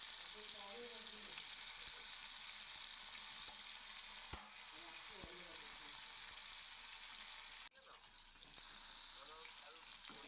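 Two hilsa fish heads sizzle steadily in hot oil, a constant close frying hiss with faint spatter and a couple of brief clatters as they are turned, the Bengali home cooking carrying on without talk.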